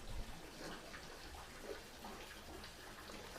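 Water is poured into a concrete pond filter, a quiet continuous splashing and trickling wash that holds steady and faint throughout, with no talk.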